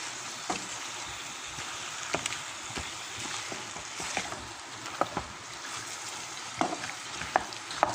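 Onions and aromatics being sautéed for chicken soup with sotanghon on an old home stove, a steady frying sizzle with scattered scraping clicks of a spoon against the pan, no talking.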